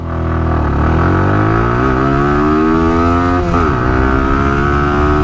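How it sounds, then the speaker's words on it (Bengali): A Suzuki Gixxer motorcycle fitted with a racing CDI accelerates hard from a standstill in first gear, its loud engine note climbing steadily in pitch, dropping briefly at a gear change, then rising again close to the microphone. "রাস্তাটা একটু ফাঁকা হোক তারপর বাইকটা নিয়ে টানবো"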